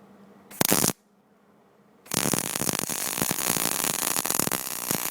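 A Millermatic 211 wire feed welder fires up after a brief burst and a pause, then runs as a loud, steady crackling and sizzling arc with irregular pops for several seconds.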